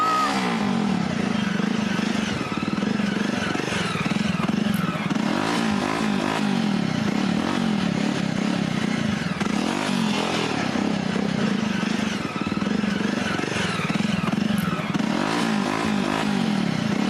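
An auto rickshaw engine puttering steadily nearby, a continuous low motor drone with clattery texture, running throughout with no clear talk over it.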